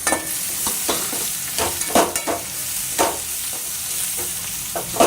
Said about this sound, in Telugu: ఇప్పుడు దీంట్లో అయితే కట్ చేసి పెట్టుకున్న 2 టమోటాస్ వేస్తున్నాను